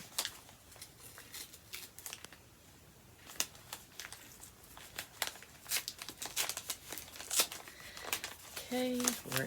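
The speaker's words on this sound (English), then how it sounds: "I'm going to try to be very careful and not rip the paper." Gift wrapping paper crinkles and tears in a run of sharp rips and crumples as a present is carefully unwrapped, with occasional soft speech nearby.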